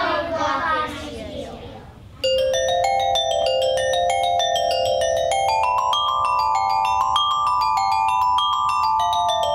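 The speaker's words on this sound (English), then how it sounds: "This is an alto glockenspiel. And it sounds like this." Alto glockenspiel in a kindergarten music class, struck note by note in a bright ringing run of metallic tones that sustain and overlap, following a voice speaking briefly at the start.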